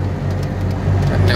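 Car driving on a mountain highway behind an old Peterbilt truck, a steady low engine and road rumble that stays loud and even throughout.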